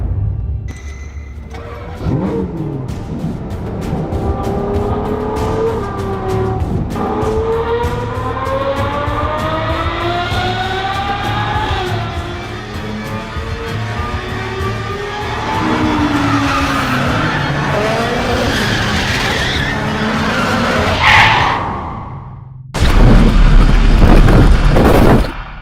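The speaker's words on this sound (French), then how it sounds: "Cristiano Ronaldo a percuté le mur du tunnel avec sa Ferrari" A Ferrari skids in a tunnel and crashes into the wall, with a loud rising engine roar and tire squeal, then a sudden heavy impact and crunching noise at the end.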